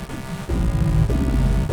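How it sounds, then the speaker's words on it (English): Deep, rumbling low-end bass in dark boss theme music, a heavy booming drone that throbs and swells continuously with dense low rumble and no voices. "Like that rumbling, it's like... This is like the deep booming voice of a powerful monster."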